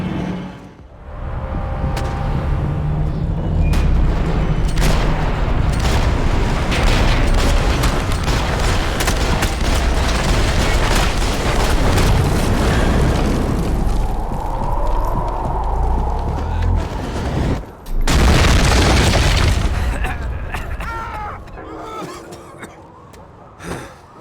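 A shootout from the video game Max Payne 3 rattles with sustained gunfire and booms. Police sirens wail throughout and one loud blast stands out near the end, with no clear voices.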